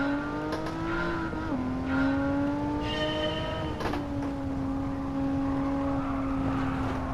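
A Porsche Carrera RS engine in Gran Turismo 7 drives a lap, revving up and down through gear shifts, a loud close whine rising and dropping under game sounds, no speech.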